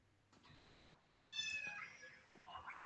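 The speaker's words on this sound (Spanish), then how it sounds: "Es un gato, güey." A Minecraft cat meows faintly twice in a quiet game scene, a short thin cry followed by a longer, brighter one.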